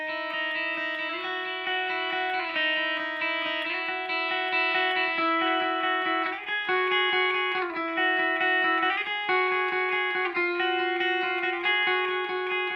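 A single distorted electric guitar plays the guitar 1 part of section 6 of a song alone, a steady melodic line of sustained notes at an even moderate volume.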